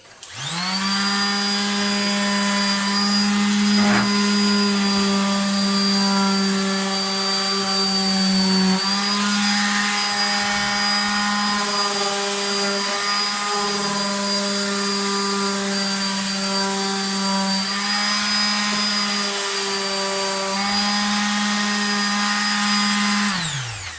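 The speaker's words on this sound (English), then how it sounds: "so now I'm going to sand the edges up" A power sander working the edges of a kitchen worktop, a loud steady motor whine with a high tonal hum running nonstop, close by, with slight shifts in pitch as pressure changes.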